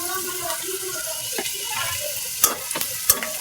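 Fish fries in a pan with turmeric, chili and coriander powder, a steady soft sizzle with stirring scrapes and a few sharp clinks near the end.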